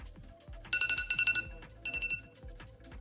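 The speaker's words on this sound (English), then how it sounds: "I got my alarms firing off." Crypto trading price alarms chirp in two quick bursts of high electronic beeps over quiet, steady background music with a thumping beat.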